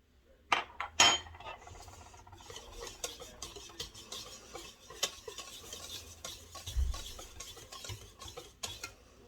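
Chocolate cake batter with vanilla extract is mixed in a bowl: a quiet, close run of soft stirring with frequent light clinks and taps of utensil on dish, a few sharper knocks early on, with no talk.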